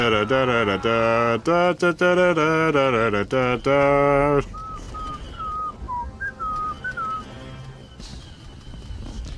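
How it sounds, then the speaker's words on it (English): Boba Fett whistles a short, wavering tune in Star Wars Battlefront II, the clear whistle following a loud burst of harmonic game music and carrying on alone over quiet background noise. "I don't know why Boba Fett was whistling there"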